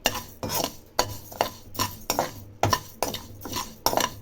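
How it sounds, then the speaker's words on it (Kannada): Dry rice for tambittu roasting in a pan over a medium flame, stirred with a metal spoon that scrapes and clinks in a steady rhythm about twice a second, close up with no voices. "ಶಿವರಾತ್ರಿ ಹಬ್ಬದ ದಿನ ಅಕ್ಕಿ ಹಾಕ್ಕೊತಾ ಇದ್ದೀನಿ ಮೀಡಿಯಮ್ ಫ್ಲೇಮಲ್ಲಿ ಇಟ್ಕೊಂಡು ಇದು ಹುರ್ಕೋಬೇಕೀಗ"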